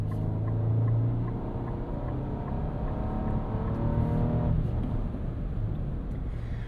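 A 2025 Nissan Armada Pro-4X SUV with a 3.5-liter twin-turbo V6 drives along, its engine hum steady from inside the cabin with a smooth drone that rises and settles, no voices present.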